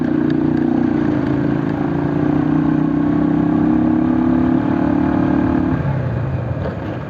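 A motorbike engine drones loud and close on a rough, muddy road between Butwal and Khaireni. It holds a steady humming pitch for several seconds, then drops lower as the bike eases off.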